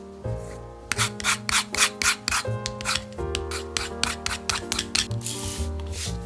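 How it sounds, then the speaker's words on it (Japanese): The grain side of a leather offcut is roughened by hand for a small hotel-style key holder, giving quick, rhythmic scratchy rubbing strokes at close range, steady and fairly quiet over a faint background tone. "そしたらそれ以外のこの銀面を少し荒らします。"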